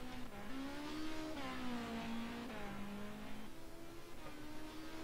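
A race car engine in a sim racing game drones steadily at high revs, the pitch dipping and rising through gear changes and corners, quiet and continuous with faint tire noise.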